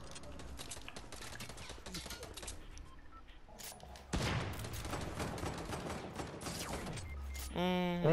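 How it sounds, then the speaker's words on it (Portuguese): Rapid bursts of gunfire from a Fortnite match, dense volleys and clattering mechanical shots filling the mix, with a louder close-range barrage midway and game sound effects at the end. "Os caras estão me cagando muito tiro."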